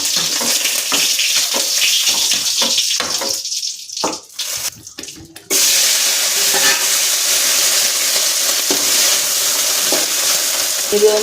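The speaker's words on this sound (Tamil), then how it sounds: "வாசனை போகும் வரை வதக்கணும். போகும் வரை நன்றாக வதக்கிடணும்." Chicken curry masala sautés loudly in a pan, a dense hissing sizzle broken by a few scraping stirs and a brief lull before the sizzle surges back strong and steady.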